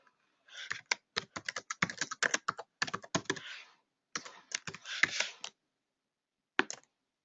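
Typing on a computer keyboard at a desk: quick, crisp key clicks in irregular bursts with short pauses, close and fairly quiet, ending with one final tap. No one speaks.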